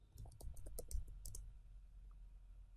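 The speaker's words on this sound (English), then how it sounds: "In your web address bar, type in test.php" Rapid, quiet clicking of computer keyboard keys being typed, an irregular burst of a dozen or so taps that fades out after about a second and a half into faint room tone.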